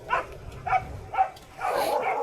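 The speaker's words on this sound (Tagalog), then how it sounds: "Maingay ang mga aso kasi nandiyan na sina Chong mga man." Dogs bark in short bursts, three quick separate yaps followed by a longer run of barking, at a moderate distance in a quiet outdoor setting.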